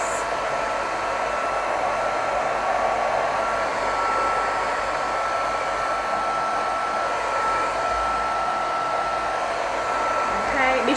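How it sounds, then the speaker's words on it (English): Close, continuous hair dryer roar on wet watercolor paper holding steady for several seconds, an even airy rush with a thin motor hum underneath, no voices. "So I'm going to grab this hair dryer out."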